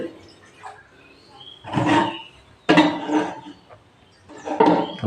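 Water is poured in a home kitchen in three separate splashing bursts, each a few seconds apart, with quieter dripping and rustling in between.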